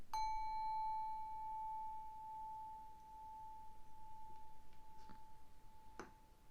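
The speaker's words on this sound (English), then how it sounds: "Going to ring this bell one more time" A single bell is struck once and rings with a clear, pure sustaining tone that slowly fades over several seconds in a quiet room, followed by a few soft clicks.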